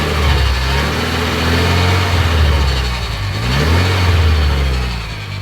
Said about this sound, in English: That's a noisy idler pulley if I've ever heard a noisy idler pulley.